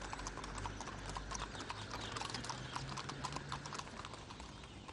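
Horse hooves clip-clop in a steady rhythm as samurai in armour ride on horseback toward a festival, the footfalls close and clear over a low background.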